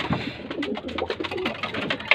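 Pigeons cooing in a loft, a soft close series of repeated throaty coos over a quiet background.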